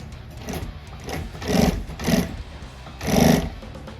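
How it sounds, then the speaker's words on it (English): Sewing machine stitching suede for a 1970 Barracuda interior: three bursts of rapid mechanical needle chatter, the last the longest, over a low motor hum, close and fairly quiet. "I gotta move to the sewing machine"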